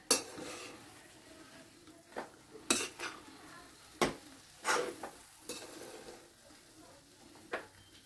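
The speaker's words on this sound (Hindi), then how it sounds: "अब एक बार अच्छे से मिक्स करेंगे।" A spoon scraping and clinking against a pan while semolina halwa is stirred, giving irregular metallic knocks and scrapes close up over a soft background.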